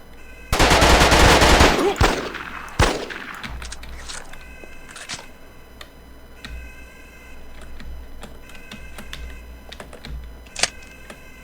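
Video game gunfire: a loud, dense burst of rapid shots at the start, then a single sharp shot and scattered quieter clicks and ticks over a low background hum.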